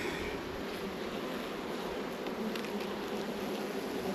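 Honey bees swarming around an open hive during a frame-by-frame inspection, a dense steady drone of many wings close by, continuous with no talk.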